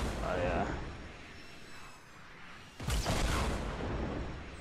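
Rockets fired by an enemy player in a duo match of a shooting video game burst in two muffled, booming explosions a few seconds apart, with low rumble trailing off after each.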